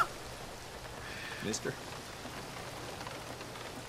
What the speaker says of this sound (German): Muss das in diesen Spielen immer regnen?